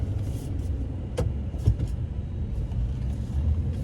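A four-wheel-drive vehicle rolls slowly over soft, moist ground, giving a low, steady engine and tire rumble with a few faint knocks and thumps from the cab.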